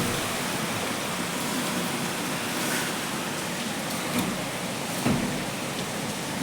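Dense, steady downpour with a broad hiss of rain drumming on surfaces, continuous throughout with a few slightly louder splashes.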